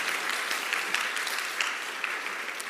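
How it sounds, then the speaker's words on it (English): Steady applause from an audience at a public debate on whether the Christian God exists, held at The King's Academy: dense, continuous clapping filling the room with no pauses. "please give Richard a round of applause for being in the lion's den"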